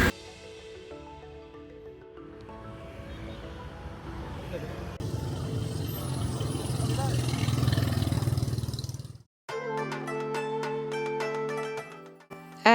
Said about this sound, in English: the motorbikes never stop